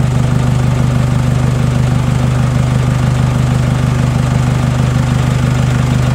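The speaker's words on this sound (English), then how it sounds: "Engine is running, no excessive spikes" Nissan X-Trail engine idling steadily with a low, even drone and faint regular knock-like pulsing throughout, loud and continuous with no voices.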